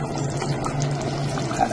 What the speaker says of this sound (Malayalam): അല്പം പച്ച വെളിച്ചെണ്ണ ഒഴിക്കാം